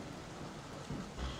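Steady rain hiss with low rumbling thunder from a tabletop fantasy role-playing storm ambience, continuous and fairly close, with a heavier low surge near the end and no voices.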